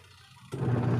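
The motor of an old National washing machine reverses direction: a faint quiet hum for half a second, then a sudden louder, low whirring drone as the motor kicks in the other way.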